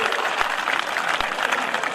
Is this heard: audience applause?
yes